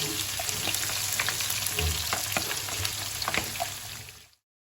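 Onions for prawn sambal frying in a pan, a steady close sizzle with scattered crackles and a brief stirring scrape, cutting off abruptly at the end.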